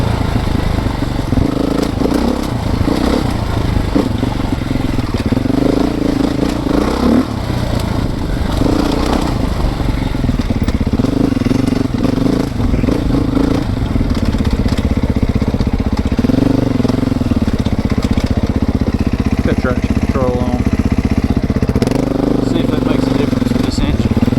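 A Beta two-stroke dirt bike engine runs continuously with a loud, close, raspy drone that rises and falls slightly as it revs throughout.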